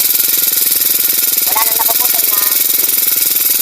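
Honda GX35 grass cutter engine with a stalling fault, running at a steady rapid idle with a buzzing, pulsing four-stroke rhythm, loud and close, while someone speaks briefly over it.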